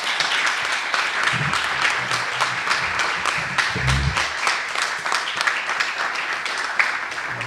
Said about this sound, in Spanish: Yo sí que pediría un aplauso para ella.